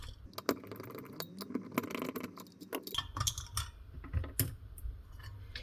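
Three screws are worked out of a plastic cover, heard as close, quiet ticking and clicking of a screwdriver with small rattles and plastic knocks in irregular bursts, and no one speaking.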